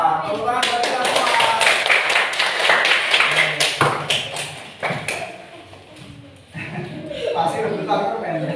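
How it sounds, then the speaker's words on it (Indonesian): Classroom of students clapping together at a teacher's call, a dense burst of many hands lasting several seconds, loud and close, with children's voices and a teacher talking over and after it. "Tepuk tangan buat kita semua."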